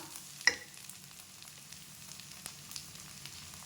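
Onions and tomatoes for a tomato chutney sizzle quietly in a pan with a soft, even hiss, broken near the start by one sharp clink of a spoon and a few lighter taps of stirring later.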